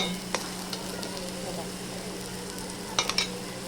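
Lote fish jhuri frying in a pan while being stirred, with a low continuous sizzle and a few sharp scrapes and clinks of the spoon against the metal, near and without talk.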